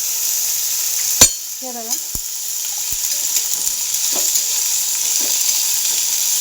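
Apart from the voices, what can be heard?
radish frying with roasted chillies in a pan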